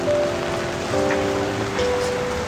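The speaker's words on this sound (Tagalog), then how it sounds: "umuulan na nga dito" Rain patters on a market, a steady close hiss of drops, with a few sustained tones sounding over it.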